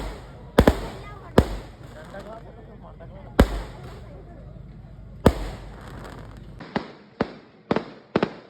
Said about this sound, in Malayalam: വെടിക്കെട്ടൊക്കെ അടാറായി നടന്നു